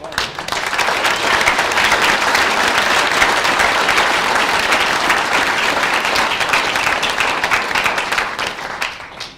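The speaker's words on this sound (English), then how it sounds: "give everyone in this room a huge round of applause" A roomful of people at a Watay power announcement bursts into loud, sustained applause, dense clapping holding steady for several seconds before starting to thin at the end, with no voices on top.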